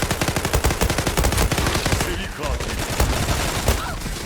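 Rapid FN FAL Pro rifle fire in the online shooter Zula, a tight string of loud cracking shots that breaks into scattered bursts, close and dominant.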